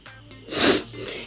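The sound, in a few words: sniffing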